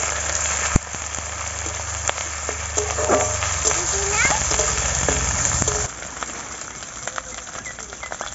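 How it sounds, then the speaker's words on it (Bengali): Garlic, onion and ginger paste frying in a pan for a Bengali chicken and lotus seed dish, a steady hiss and sizzle with faint crackles. Partway through the sizzle drops quieter. "রসুন বাটাটুকু, পেঁয়াজ বাটা, আদা বাটা, এগুলোকে ভালো করে আগে কষিয়ে নেব।"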